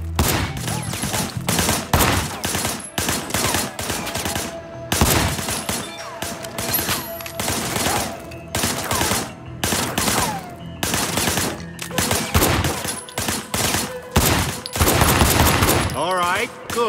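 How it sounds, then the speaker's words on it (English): Gunfire in the open-world crime action game Sleeping Dogs, a dense stream of rapid bursts and sustained automatic fire with short gaps, loud and close, alongside game effects and faint voices. "I want you to put some bullets in a few things."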